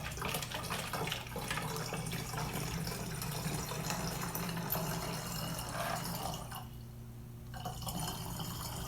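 Water trickles and splashes into a container as it fills, a faint, continuous pouring sound that softens briefly before resuming.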